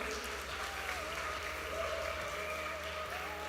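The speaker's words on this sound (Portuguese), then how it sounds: "Pode aplaudir o Senhor." Steady applause from a church congregation fills the space, a dense continuous patter with no pauses, moderately loud throughout.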